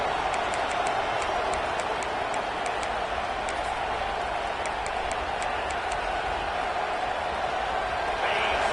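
A football stadium crowd keeps up a sustained, roaring din of cheering and noise on a fourth-down play, with a commentator talking over it throughout.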